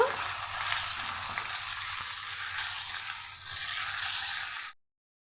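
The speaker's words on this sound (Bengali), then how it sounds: "আমি আলুটা একটু ভালো করে ভেজে নেব" Potatoes fry with turmeric and salt in hot oil, giving a steady, dense sizzle that holds evenly for several seconds and then stops abruptly.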